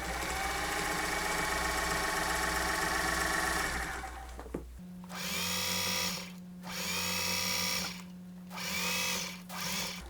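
A sewing machine stitches through layered denim jeans, first a steady whirring run, then several bursts of fast mechanical stitching with short pauses between, close and clear.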